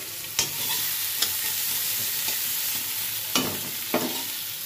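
Eggplant fries in hot oil with nigella seeds, dried chili and bay leaf, giving a steady close sizzle broken by a few sharp scrapes and knocks from stirring.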